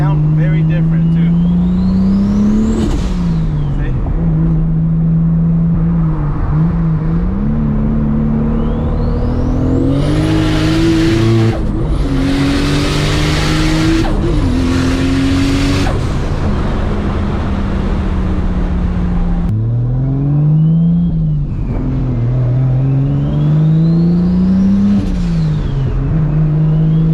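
A 1000+ horsepower Toyota Supra on a street on slicks, its engine loud and close, revving up and down through repeated gear changes with rising and falling pitch and a brief roaring burst midway.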